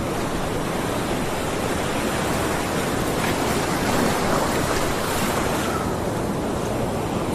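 Steady ocean surf washes in continuously, a broad rushing roar of breaking waves with a slight swell midway, heard alone without voices.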